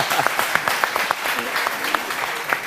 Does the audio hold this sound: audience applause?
yes